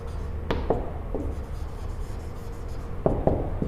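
Marker strokes squeak and scrape across a classroom board during a lecture on Rh blood groups, a few short bursts near the start and a couple more near the end, heard over a steady low room hum.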